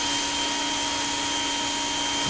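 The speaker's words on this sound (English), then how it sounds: "it's no louder than any other pressure washer I've used that's electric" An Active 2.0 120V electric pressure washer runs with a steady, loud, close motor whine and hiss. The tone is constant and unbroken from start to finish.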